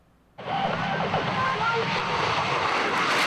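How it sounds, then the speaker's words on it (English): A CF-18 demo jet flying at an air show, its engine starting abruptly as a loud, broad roar that holds steady and swells slightly as it passes. "Fort Wayne's new CF-18 demo jet started off the show"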